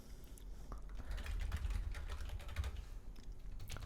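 Steady rapid typing on a computer keyboard while editing text in the Vim editor, a continuous close patter of key clicks with no pauses, no one talking.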